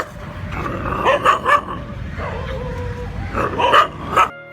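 Street dogs scavenging around a garbage heap bark and yip in two sharp clusters of several barks each, fairly close, with quieter whimpering between the bursts.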